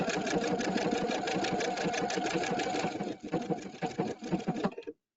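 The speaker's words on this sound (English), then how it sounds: "I'm going to stitch 1 more stitch." An EPIC 2 sewing machine stitches fabric with a fast, steady mechanical whirr and rapid needle rhythm that holds for about three seconds, then slows into a few uneven final stitches before stopping abruptly.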